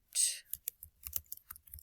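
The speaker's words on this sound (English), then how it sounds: "Having trouble typing today." Quick, light clicks of typing on a computer keyboard, close and fairly quiet, in an uneven rhythm of separate keystrokes, with a brief whispery hiss at the start.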